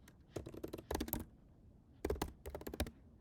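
Someone types on a computer keyboard nearby in two short bursts of quick clicking keystrokes, with a brief pause between them, in a quiet room.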